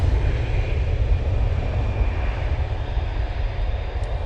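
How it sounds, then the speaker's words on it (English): An easyJet airliner departs Manchester Airport for Djerba, its engines a loud, steady low rumble and roar that holds without much change across the short stretch, with no voices. "Easyjet off to Jerba"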